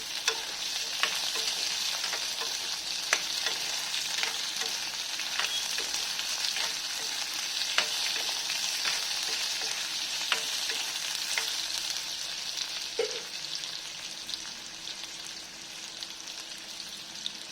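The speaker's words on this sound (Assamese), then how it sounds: "আৰু এইখিনি লৰাই দিম।" Dal tempering of tomato and ridge gourd frying in a pan, a strong continuous sizzle with regular light taps and scrapes of a spoon stirring, close up and steady throughout, no one talking.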